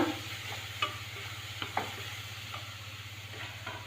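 Garlic and ginger frying in a pan with no ghee, stirred with a few scraping strokes over a soft steady sizzle, with a constant low hum underneath and no talking.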